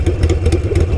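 A Harley-Davidson fitted with a Kinetic 'The Coil' exhaust rumbles loud and close, a deep idle with quick rhythmic throttle blips pulsing through it.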